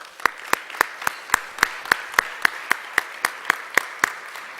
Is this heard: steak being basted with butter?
no